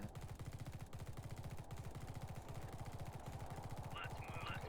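Sustained automatic weapon fire in the game The Red Solstice, a long, even, rapid stream of shots at low level with short electronic blips near the end and no clear voice over it.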